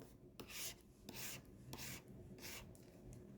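Faint, rhythmic scratching strokes of a pen nib on a Wacom CTL-672 drawing tablet, about five short rasping swipes in quick succession while writing.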